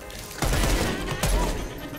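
Video game gunfire in a shooter, two loud bursts of rapid shots, one starting near the middle and another shortly after, close and dense over a steady background rumble.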